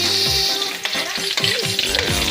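Garlic and onion sautéing in a pan for duck feet adobo, a loud, close, continuous sizzle with repeated scraping stirs and clinks throughout.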